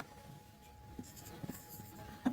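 A pen scratches on paper while a math formula is written out, making a faint, close scratching with a few soft strokes and taps and no talking.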